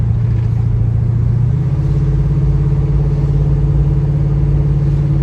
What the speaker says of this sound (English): 1700 RPMs, purring like a kitten.